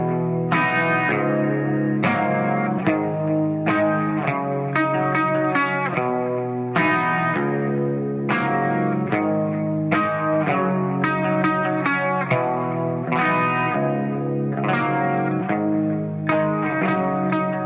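Clean electric guitar tone from a preset on an Axe-Fx III, playing rhythmic picked chords and arpeggios with a bright, slightly effected sound, steady and close, with no talking.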